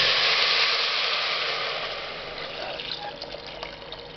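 Steady broadband rush of water pouring into a container, strong at first and gradually easing, with faint clinks near the end.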